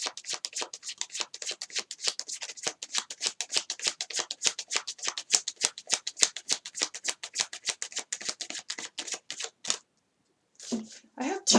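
Tarot cards being shuffled by hand, a rapid even run of crisp riffling flicks for about ten seconds, then a short pause and a few rustles at the end.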